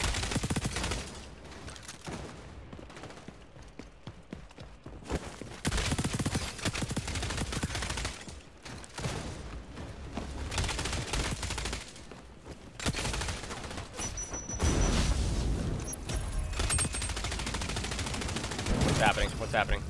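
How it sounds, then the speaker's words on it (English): MDR rifle fire in the shooter game xDefiant, with rapid bursts and sustained volleys of gunshots filling long stretches, loud and dense, alternating with brief quieter gaps. "This gun is so much better with a red dot and not a silencer"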